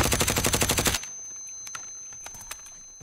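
In-game automatic weapon fire comes as a fast, loud burst of evenly spaced shots lasting about a second, then stops, leaving faint clicks and scattered game noises.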